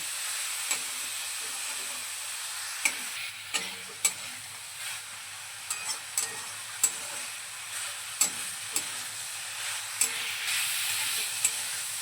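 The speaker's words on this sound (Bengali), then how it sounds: "ধনে পাতাটাও খুব ভালোভাবে শাকের সঙ্গে নেড়ে চেড়ে মিশিয়ে নিচ্ছি" Red amaranth greens are stir-fried with chopped coriander leaves in a pan, giving a steady close sizzle under a dozen or so sharp, irregular spatula scrapes and taps, with no talking.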